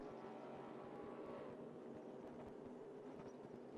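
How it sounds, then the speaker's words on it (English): Ford Mustang race car in the video game RaceRoom at Suzuka: a deep, continuous engine roar holding steady throughout, fairly faint and distant, with no talk. "The absolute monster of an engine in that thing. Great sound"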